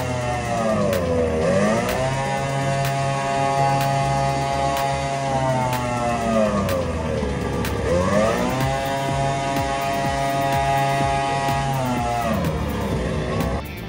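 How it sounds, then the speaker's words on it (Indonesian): F1H2O powerboat engines warm up on the shore of Lake Toba, a loud sustained motor drone whose pitch rises and falls in sweeping revs several times, steady and close throughout. "Beberapa pembalap dan tim pun sudah mulai memanaskan mesin mereka di pinggiran Danau Toba."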